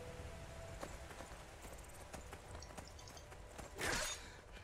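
A horse gallops with rapid, uneven hoofbeats during mounted horse combat in Skyrim, near and moderately loud, ending with a sharp shattering burst near the end.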